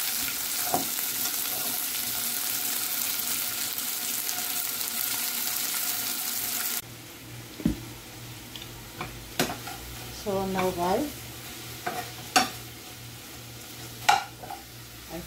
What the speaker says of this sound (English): I pour in the onion, the garlic, the sweet pepper, and it's frying up.